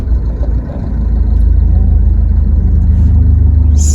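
A 2010 fourth-generation Mitsubishi Pajero diesel engine running with a steady, loud, close rumble that firms up after the first second and continues evenly throughout, with no talk.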